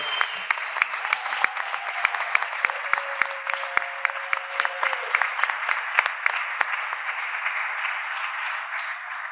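An audience at a panel on cannabis culture breaks into applause, a dense, steady patter of many hands clapping that carries on for the whole stretch at moderate loudness.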